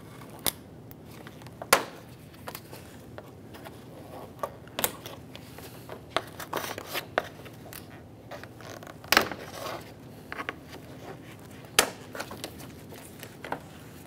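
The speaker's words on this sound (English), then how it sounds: "Just using my trim tool, pry it out of place." Rubber weather stripping on a 2011-2021 Jeep Grand Cherokee being pried loose with a plastic trim tool, quiet scraping with a series of sharp clicks and snaps at irregular intervals.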